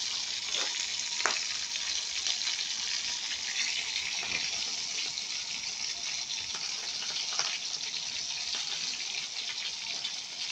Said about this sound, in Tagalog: yan pong ulam namin ngayon pritong bangus